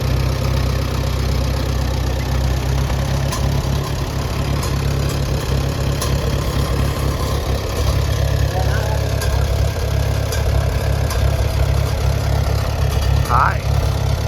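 A Case VAC tractor engine runs at a steady idle with a rattling noise from its low oil level, a constant low rumble that continues unbroken throughout.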